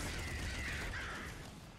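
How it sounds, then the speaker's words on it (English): Harsh caw-like squawks from birds being killed in Nuclear Throne, a brief, faint cluster under noisy game sound. "All the birds squawking as you kill them."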